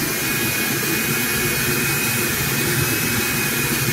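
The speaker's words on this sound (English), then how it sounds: "Just letting that Dremel do its job." A Dremel rotary tool runs steadily while cleaning and restoring a MakerBot Method 3D printer hot end, giving a constant, loud high-pitched whine with a broad hiss that holds unbroken throughout.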